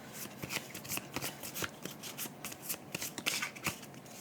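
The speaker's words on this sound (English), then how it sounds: "everything else gets added back into the deck and shuffled" Playing cards from a deck are riffled and shuffled alone, producing a rapid burst of crisp papery flicks and snaps with a few sharper clicks, close and fairly quiet throughout.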